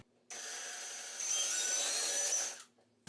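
A power drill fitted with a 3/8 pocket-hole bit boring into wood, a close whining burst of about two seconds that grows louder and rougher midway as the bit bites, then cuts off to quiet.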